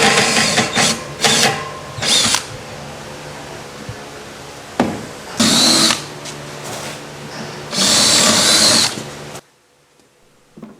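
Power drill boring holes for a raft swim ladder through an assembled ladder used as a template, in several loud bursts of whining drilling separated by pauses, ending with a quiet stretch.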